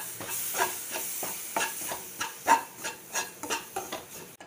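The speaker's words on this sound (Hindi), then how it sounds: "डाल के अब हम इसको मिक्स करेंगे" A spatula stirs a sticky coconut modak filling with a freshly added paste in a pan, making repeated soft scraping strokes in an uneven rhythm, close and moderately quiet, with no voices.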